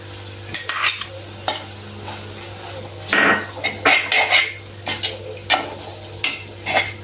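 A spoon stirring a banana flower stir fry mixed with cooked lentils in a pan, a series of close scraping and clinking strokes over a faint low hum, with quiet sizzling between them.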